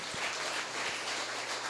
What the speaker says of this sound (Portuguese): Queridos, aplauda o Senhor.